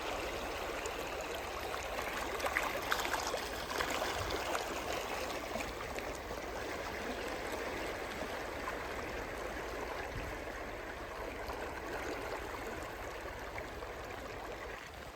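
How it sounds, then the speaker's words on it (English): Creek water rushes and gurgles steadily during a vehicle crossing at the entrance to Great Sand Dunes National Park, a loud continuous wash with no speech. "made it across the creek"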